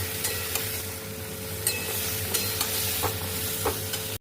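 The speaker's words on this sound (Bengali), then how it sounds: "টক দই আর আদা বাটাটা দিয়ে একটু ভালো করে নাড়াচাড়া করবো।" Sour yogurt and ginger paste being stirred through fried vegetables in a pan, with a steady soft sizzle and faint scraping, plus a few light utensil taps on the pan and a sharper knock at the end.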